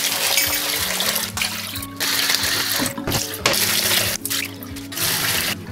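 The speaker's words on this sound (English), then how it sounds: "So the first thing we're gonna do is wash the rice and put it to cook in the microwave" White rice being rinsed under a running kitchen tap, a steady loud splashing stream broken by short pauses and shifts as the grains are swirled and the water is tipped out, with no talking.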